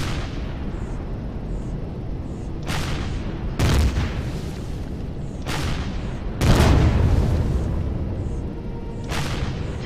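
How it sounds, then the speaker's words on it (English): Rocket launcher fire in the Empyrion space survival game: several loud booming blasts with long rumbling tails, spaced a second or two apart over a constant low background drone. "I really do like this rocket launcher thing."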